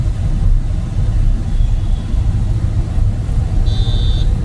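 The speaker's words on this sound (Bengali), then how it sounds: "হ্যাঁ টার্নিং মোড়ে হর্নটা তো দিতেই হবে প্লিজ" A car on the move, with a learner driving, gives a brief horn beep at a turn near the end, over a steady close engine and road rumble.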